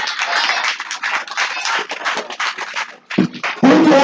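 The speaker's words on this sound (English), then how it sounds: "Clap for our daddy here. Make sure you're clapping." A school audience claps together at a college event, a dense, fairly loud patter of many hands that swells and dips across the stretch and briefly thins near the end.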